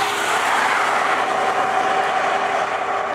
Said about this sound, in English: I finally got to see a train move at Calgas.